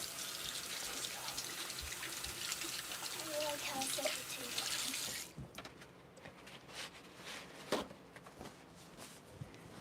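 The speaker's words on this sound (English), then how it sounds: "let me give my hands a quick wash" Running tap water splashes steadily over hands for about five seconds, a broad close hiss, then cuts off, leaving a quieter kitchen with faint clatter and a few soft knocks.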